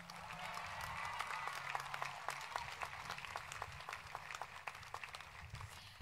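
Scattered applause from the audience at a high school graduation follows the band's processional, with distinct claps sounding faint and somewhat distant over a low, steady hum from the hall's sound system.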